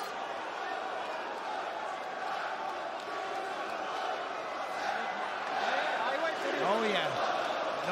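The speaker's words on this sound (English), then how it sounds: "Listen to this crowd, though. I would love to know what they're chanting." Arena crowd at a UFC event roaring and chanting, a broad, continuous crowd swell heard under a voice, rising toward the end.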